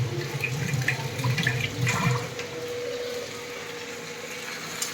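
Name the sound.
washing hands under running tap water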